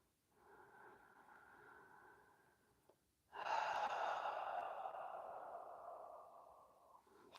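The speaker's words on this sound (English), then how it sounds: "And taking a deep breath in." Two slow, close breaths are audible in a quiet room: a softer inhale, then a longer, deeper breath in that gradually trails off.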